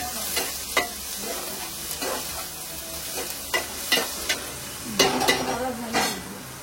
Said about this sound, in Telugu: ముందు ఉల్లిపాయలు నూనెలో వేసి వేగిదాకా మగ్గిదాకా యాగనివ్వాలి